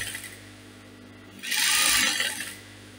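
A sewing machine stitches a circle dress in a short burst of about one second, loud and close, rising from a quiet room and stopping cleanly.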